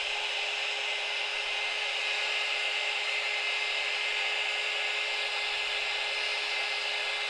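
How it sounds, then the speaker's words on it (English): A heat gun blows steadily and loudly across the whole stretch, melting embossing powder for a polymer clay faux red regalite piece, a constant high hissing whine with no pauses and no talk. "you're just going to go over that embossing powder with the heat gun until it does its melty thing"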